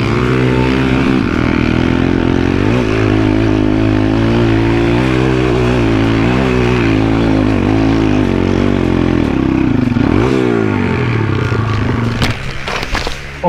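An off-road vehicle's engine is held at full throttle on rough terrain, roaring loudly and continuously with wavering pitch as it strains, then fading slightly near the end.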